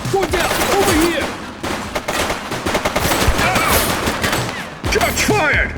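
Rapid gunfire rings out in the police action game The Precinct, with repeated sharp shots in irregular bursts over several seconds, mixed with shouting voices and other action noise.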